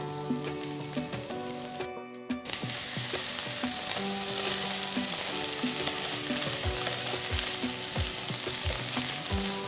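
Cooked potatoes and peas frying in a pan with golden-brown onions and ginger, a steady, dense sizzle with repeated stirring scrapes, close and fairly even, broken by a brief drop near the start.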